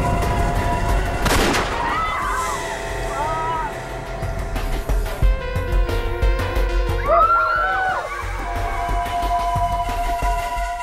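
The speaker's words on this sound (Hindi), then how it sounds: "शुक्र है अभी पैर पे गोली मारी है, छाती पे नहीं" A single gunshot in a tense police standoff in a crime drama, one sharp loud crack early on, followed by tense background score with rumbling low tones and swelling music.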